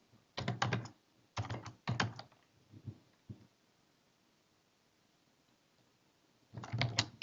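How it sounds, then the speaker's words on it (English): Bursts of typing on a computer keyboard while entering document details for a 2016 Word project: quick clustered keystrokes in short runs separated by pauses, close and fairly quiet, with no talking. "I'm just going to type it in here."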